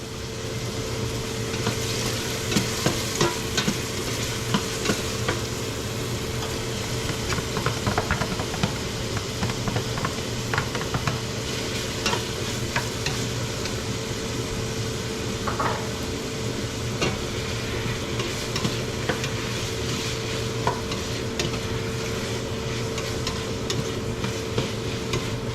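Chicken and onion stir-fried in a pan, a steady low sizzle with scattered scraping stir strokes running throughout, close and continuous with no talking.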